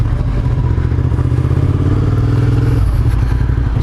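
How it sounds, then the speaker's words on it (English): A brand-new Suzuki SV650 motorcycle with zero miles and fresh gas, its engine running loud and close with a steady low rumble and a slight mechanical clatter. "let's go ahead and start up the bike"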